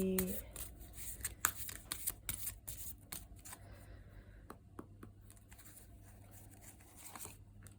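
Oracle and tarot cards shuffled by hand for a card reading, giving a run of soft riffling flutters and sharp papery slaps that cluster early and thin out, close and fairly quiet over a low steady hum.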